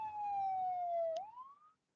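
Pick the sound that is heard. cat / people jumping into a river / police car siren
police car siren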